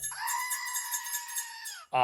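A goat bleat played as a phone sound effect: one long, wavering, steady-pitched bleat that fills nearly the whole moment, ending in a brief sharp burst of another sound.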